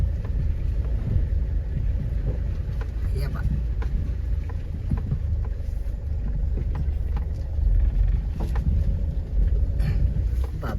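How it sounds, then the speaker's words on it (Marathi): A car pushes through flood water covering a road, its engine a steady low rumble blended with continuous sloshing and wind buffeting the microphone. "आवाज ऐका फक्त गाडीचे"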